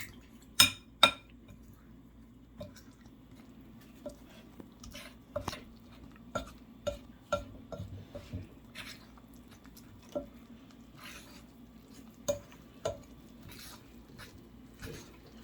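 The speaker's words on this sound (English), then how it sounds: "you want to keep on mixing this until you get this into a dough" Pizza dough ingredients mixed in a bowl with a utensil, producing sparse clinks and taps against the bowl, some sharp and close, spaced irregularly over a quiet background hum, with no speech.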